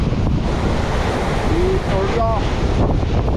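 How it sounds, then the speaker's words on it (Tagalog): Heavy surf crashes continuously at Blue Lagoon, Pagudpud, in the Philippines, with strong wind buffeting the microphone, and a few faint high tones rise briefly over the roar. "Tignan nyo naman ang lakas ng alon dito sa Blue Lagoon, Pagudpud."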